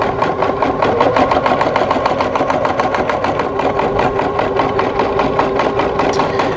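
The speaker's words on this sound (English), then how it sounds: "this machine only stitched out about 350 stitches a minute" An embroidery-only sewing machine stitches at about 350 stitches a minute, a loud, close, steady mechanical whir with a fast, regular clatter that continues without pause.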